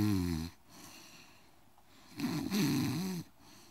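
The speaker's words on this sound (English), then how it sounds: "The cold wind howls and the night sounds growl, but the bear snores on." Loud, close snoring with rough, rattling breaths in two long pulls separated by a quieter exhale, attributed to a bear; no speech.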